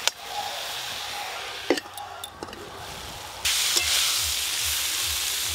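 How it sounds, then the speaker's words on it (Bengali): Red amaranth greens fry in a pan with salt and turmeric, a close, loud continuous sizzle with a few clinks and scrapes of stirring, swelling into stronger hissing toward the end. "এই শাকগুলো একটু চাপা দিয়ে ভালো করে ভাজতে হবে"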